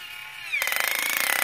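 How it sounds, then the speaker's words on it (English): A toy drill from a kids' toolbox car-building set whirs while tightening a screw, starting abruptly after a brief tonal lead-in and running with a rapid buzzing pulse, close and fairly loud. "we get to use the drill, actually just tightens"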